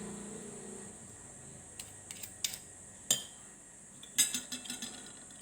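Chicken dim sum filling being stirred in a bowl, heard as a few scattered utensil clinks and scrapes against the bowl, moderately close and quiet, with a cluster of taps near the end and no talking.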